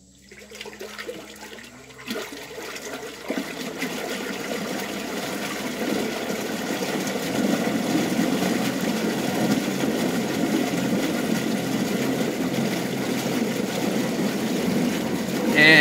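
Minn Kota trolling motor driven by a PWM control board ramping up to wide open throttle, a whirring churn of water that builds steadily louder and stays strong, close by.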